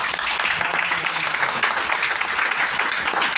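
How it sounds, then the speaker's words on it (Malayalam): A seminar audience breaks into dense, continuous applause, a loud, unbroken roar of many hands clapping together with no break in its steady intensity. "ഇതിനുവേണ്ടി കേരളത്തിൽ വലിയ കയ്യടി വേണം"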